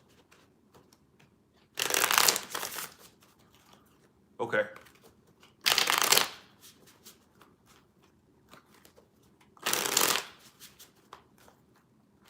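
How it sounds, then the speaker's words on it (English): Three bursts of tarot card shuffling, each a few seconds of crisp riffling, separated by quiet pauses with a brief spoken word in between. "4 more shuffles."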